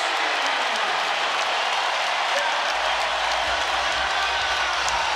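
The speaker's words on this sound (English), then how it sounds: "And the crowd coming alive." A basketball arena crowd cheering as the Dallas Mavericks and Golden State Warriors draw level in a 2015 NBA game: a loud, sustained roar mixed with scattered applause that holds steady across the whole stretch.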